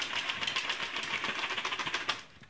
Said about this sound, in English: You're going to shake the keyboard out that all the crumbs fall out.